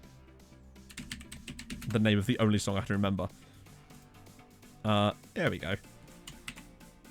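Computer keyboard keys tapped in short bursts while someone searches online during a PC gaming session, soft clicks running under a talking voice, with faint music in the background.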